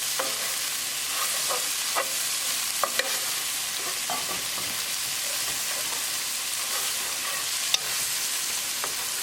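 Black pepper, cumin powder, coriander powder and garam masala are stirred into a mushroom dal cooking over medium gas, a constant crackling sizzle with repeated soft scraping strokes and a couple of sharp utensil taps.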